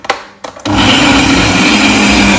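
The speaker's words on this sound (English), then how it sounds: "Go ahead and blend our veggies." A blender runs loud and steady, pureeing cooked peppers and Turkish berries for a Ghanaian pork feet light soup, starting after a couple of brief knocks and a short burst, then holding a continuous whir.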